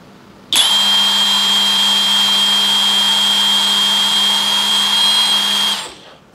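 A cordless brushless Dongcheng impact wrench spins up abruptly and runs free on its lowest speed setting for about five seconds with a steady, loud motor whine, then stops sharply.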